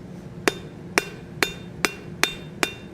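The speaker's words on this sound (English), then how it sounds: "Go to the anvil. Half on, half off blows to create a toe." Six evenly spaced, sharp ringing hammer blows on hot steel at a blacksmith's anvil, forging the toe of a simple gothic door knocker, each strike loud and close over a low background hum.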